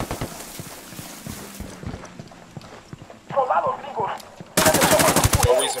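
Gunfire in the video game Ghost Recon Wildlands, rapid rattling bursts that swell loud toward the end, mixed with other game noise and talk.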